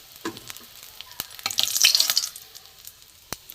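Chicken kofta balls fry in hot oil in a kadai, giving a brief burst of sizzling with a few sharp clinks and taps around it, fairly close and moderately loud.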